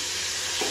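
Vegetables stir-frying in a pan while cooking chicken tikka pasta: a steady, close broadband sizzle and hiss for under a second, with a slight stirring scrape near the end.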